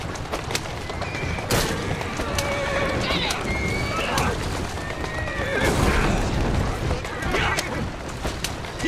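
Horse-drawn carriages in the video game Assassin's Creed Syndicate: horses whinny loudly and hooves clip-clop rapidly amid clattering wheels and bursts of impact noise, with voices speaking over the commotion.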